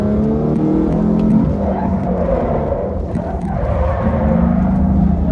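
A car in a drift video game revving hard in third gear on a circuit, a loud, continuous rasping engine roar with slight pitch swells and dips, without speech.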